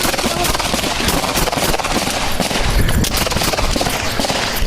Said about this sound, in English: Shots fired still.